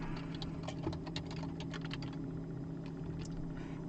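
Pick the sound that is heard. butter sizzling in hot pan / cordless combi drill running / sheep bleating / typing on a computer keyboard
typing on a computer keyboard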